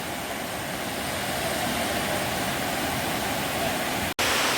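Steady, dense rush of falling water at Madatharuvi waterfall in Ranni, loud and close, with a brief dropout just before the end.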